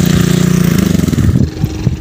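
A motorcycle engine catches after a hard start on a farm field and revs up close, a steady low throbbing that rises and then settles into uneven idling.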